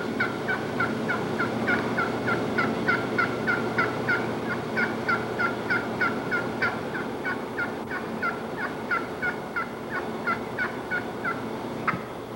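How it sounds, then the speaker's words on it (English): A wild turkey hen yelps over and over in a steady, rhythmic run of sharp calls that lasts about twelve seconds. The calls are moderately close and carry over faint outdoor background noise, with no talking. "This hen, like many of us, yelps way too much."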